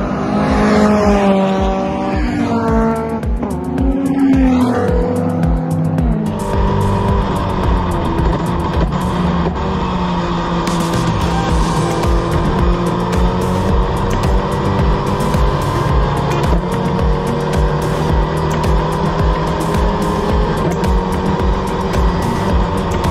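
A Ginetta G40 Junior race car laps Donington Park, its engine climbing through rapid gear changes at first, then settling into a loud sustained high-revving drone that holds steady and close throughout.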